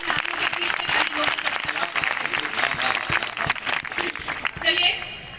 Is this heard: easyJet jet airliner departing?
no